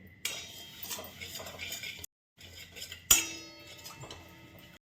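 Sesame seeds are stirred and roasted in a pan, with a spoon scraping and clinking against the metal in an irregular rhythm. A sharp louder clink comes partway through, between short pauses.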